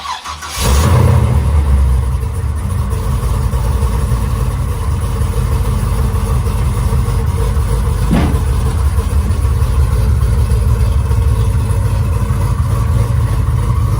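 A Chevrolet C10 pickup that has been sitting unused cranks briefly and fires up, then settles into a steady, loud, rumbling idle close by for the rest of the time, with no one talking.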